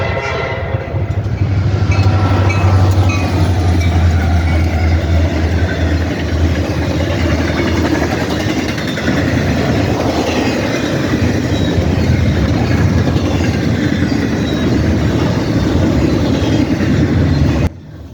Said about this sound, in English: Train we saw was another CSX intermodal